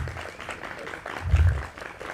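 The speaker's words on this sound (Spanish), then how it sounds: "Entonces les damos un fuerte aplauso a ambos, por favor." An indoor audience at a geology book presentation and talk applauds, a soft, steady patter of clapping with a brief louder thump partway through.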